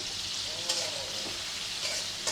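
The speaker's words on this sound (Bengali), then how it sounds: "আমি পেঁয়াজ দিয়ে পেঁয়াজের ভাজনা উঠাচ্ছি" Onions frying in oil in a pan, a steady hissing sizzle with a few brief stirring scrapes, close and even throughout.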